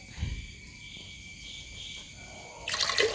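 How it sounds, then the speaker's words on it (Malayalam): Water pouring into a pressure cooker holding fenugreek porridge: a soft, steady splashing trickle that swells into a brief, louder gush at the end, with no one talking. "ഇനി ഇത് വേവാൻ ആവശ്യമായ വെള്ളം കുക്കറിലേക്ക് ഒഴിക്കുക"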